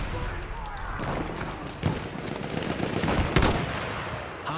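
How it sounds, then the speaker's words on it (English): Enemy machine gun fire crackles in the Battlefield 1 video game on the Passchendaele map, with rapid bursts and distant booms mixed into a dense battle din while voices call out. "Enemy machine gun"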